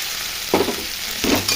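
Onions frying in a pan as a paste of cumin, ginger, chili and garlic goes in, a steady sizzle broken by two bursts of stirring and scraping, close and loud with no talk.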